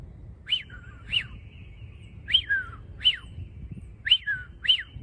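A man whistles an imitation of a chuck-will's-widow call, repeating sharp, whistled three-note phrases in an uneven rhythm, close and clear against a quiet background.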